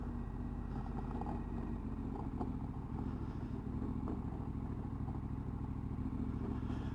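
KTM motorcycle riding off-road over heavy gravel, a steady mid-pitched engine drone mixed with constant crunching and clatter from the tyres and loose stones, continuous and even throughout, with no talking.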